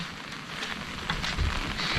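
Steady rain falls on a surface outdoors, a dense, continuous patter that holds at an even level for a couple of seconds with no voices.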